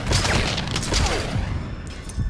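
Gunfire in Metal Gear Solid V: Ground Zeroes, a dense burst of rapid shots with booming impacts and mechanical clatter, loud and continuous, then trailing off near the end.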